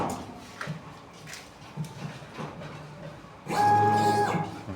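A cutting machine starts up near the end after a stretch of faint background noise, turning into a loud, steady mechanical whir with a bright whine running through it.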